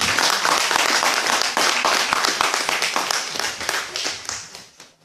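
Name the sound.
church congregation clapping and applauding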